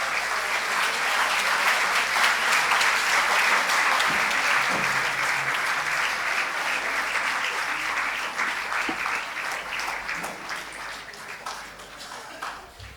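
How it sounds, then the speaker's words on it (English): Audience applause for a standing ovation at a formal recognition ceremony, dense sustained clapping from a large crowd that stays loud for a long stretch and then thins slightly toward the end. "Please rise for a standing ovation and give him a huge round of applause"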